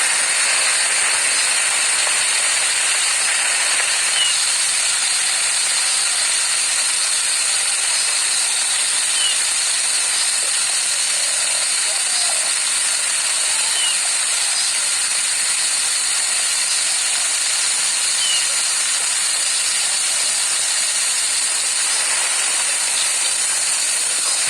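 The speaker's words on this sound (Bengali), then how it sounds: "সর্ষের তেলে দেব কেটে রাখা পেঁয়াজ কুচি।" Chopped onion fries in mustard oil with a loud, constant hiss that stays even and unbroken throughout.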